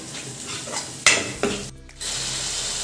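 Ground garam masala spices frying in hot oil for paneer masala, with a soft steady sizzle, a few near stirring scrapes and clinks of a utensil against the pan, and a brief pause before the sizzle returns.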